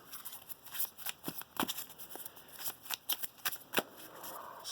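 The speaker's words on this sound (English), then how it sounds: "Spend 8 days shuffling" A deck of playing cards is shuffled during a Magic: The Gathering game, giving a run of quick papery riffles and snaps in uneven bursts, close and fairly quiet, with no talking.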